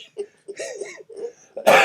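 Short murmured vocal sounds from a podcast host lead into one abrupt, harsh cough, close to the microphone.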